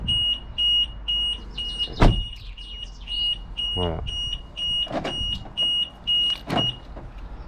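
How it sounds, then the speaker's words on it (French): A BMW E90's car alarm set off when the door is opened, giving repeated short beeping chirps in an even rhythm, close and loud, with someone speaking briefly between them. "Petit test de l'alarme, c'est simple."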